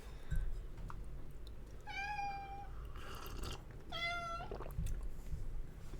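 A cat meows twice, each call a drawn-out rising and falling cry separated by a couple of seconds, fairly close over a low steady background hum.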